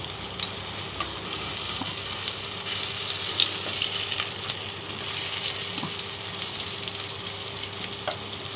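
Dawood Basha kofta meatballs sear in a hot frying pan, giving a close, steady sizzle and crackle that carries on without a break and with no talking.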